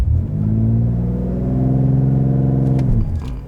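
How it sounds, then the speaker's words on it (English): A 2020 BMW X3 M with a Stage 2 tune revs hard under full throttle while held on the brake, its engine note a loud, steady, rising roar that holds for a few seconds before backing off. "Left foot on brake, floor the gas."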